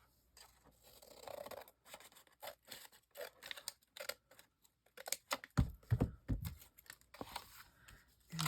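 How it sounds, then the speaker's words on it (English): Paper ripped by hand while decorating journal pages, a series of sharp, close tearing bursts and scrapes with pauses between, loudest toward the end. "we're not cutting nothing, we're just ripping"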